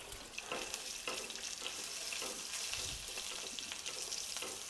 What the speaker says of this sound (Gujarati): અહીંયા વઘાર સરસ કકડી ગયો છે.